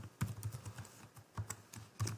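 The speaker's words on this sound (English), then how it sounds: "keep making typing errors." Quick bursts of typing on a computer keyboard, irregular clicks and clacks coming close together, soft and near, with no voices.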